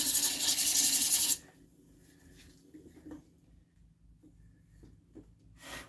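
Sandpaper rubs briefly against the edge of a turned elm piece on a lathe, a loud, close rasp for about a second, then a quiet room with a few faint light knocks and a short scratch at the end.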